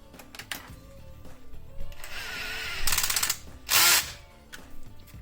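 A power driver with a socket runs nuts and bolts down on a dash mount in a Toyota Tacoma, heard as a few short whirring bursts with ratchety clicks between them, close up and with no talking.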